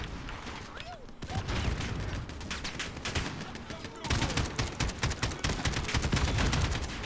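Rapid bursts of gunfire from the video game Modern Warfare 2 crackle through, with a brief pause before a denser stretch of sustained automatic shots.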